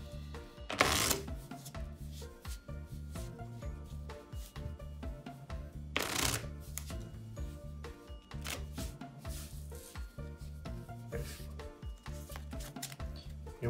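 A deck of playing cards shuffled by hand for a magic trick, a series of soft riffling and tapping bursts with two sharper loud shuffles standing out, close and otherwise quiet.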